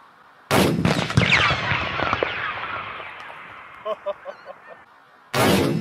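A Cobra Limited Edition firework goes off outdoors with sharp loud bangs and crackling bursts, followed by a trailing hiss and a few scattered pops, then another loud blast at the end; voices talk around it.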